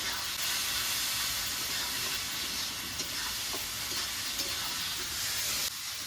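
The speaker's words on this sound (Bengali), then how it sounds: "এবার নেড়ে চেড়ে মশলাটাকে ভালো করে কষিয়ে নেবো" Masala with salt and turmeric frying in a pan, a continuous hissing sizzle with faint scraping as it is stirred, steady and fairly close throughout.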